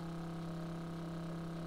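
Motorcycle engine idling steadily in the survival video game Once Human, a low even hum with strong droning tones, running alone and fairly quiet with no rise in pitch.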